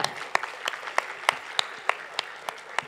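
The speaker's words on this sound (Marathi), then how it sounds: "त्यांच्यासाठी जोरदार टाळ्या" Scattered, sparse clapping from a small audience at a Mangalagaur charity event, honoring a songwriter, with a handful of distinct claps spaced out and a quiet room behind them.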